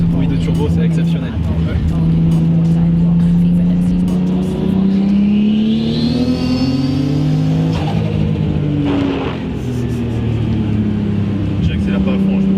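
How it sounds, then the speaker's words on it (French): A Nissan Skyline R33 engine pulls hard under acceleration, loud and close from inside the car, its droning pitch climbing steadily as a rising turbo whistle cuts through, with voices in the car along with the engine. "bruit de turbo c'est exceptionnel"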